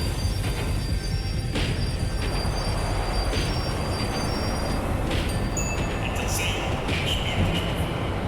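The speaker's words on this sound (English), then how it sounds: "The tram was slowing down, and I'd only just gotten on board." A tram in Max Payne 3 rumbles steadily along rails, wheels grinding with faint high squeals as it slows, a constant close mechanical roar throughout.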